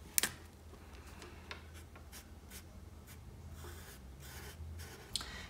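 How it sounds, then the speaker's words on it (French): A warm grey marker scratches softly across paper while coloring a drawing, with faint, quiet strokes and a couple of sharper taps close by, no voices. "Pour les cheveux, je vais commencer par tout colorier avec du gris chaud 3."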